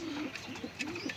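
Pigeons coo softly in a loft, a few low throaty rolling calls in quick succession at a quiet level, with faint background noise and no talking.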